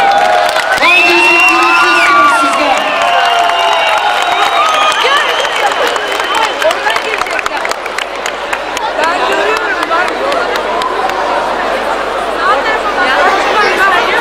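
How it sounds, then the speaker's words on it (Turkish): Loud crowd at a film gala premiere in an Izmir shopping mall, with cheering, whoops and dense applause that builds from the start and carries on throughout, with voices mixed in. "Böyle kocaman alkışlar."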